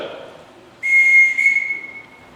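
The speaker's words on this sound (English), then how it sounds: "Everyone in this house answers to whistle." A single sharp, high-pitched whistle blast sounds loudly on stage during a high school production of The Sound of Music, holding for over a second before tapering off.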